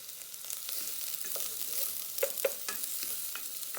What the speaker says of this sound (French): Je mets l'oignon dans la marmite jusqu'à ce qu'elle devienne translucide, l'oignon. Donc, je vais mélanger